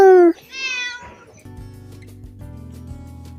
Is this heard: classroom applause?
no